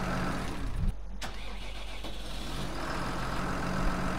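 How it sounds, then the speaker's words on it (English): A tractor engine in Farming Simulator 19, a MAN ITRunner 2 mod, starts up: a brief crank around the one-second mark catches into a steady, loud, even engine drone with no talk over it. "fire it up"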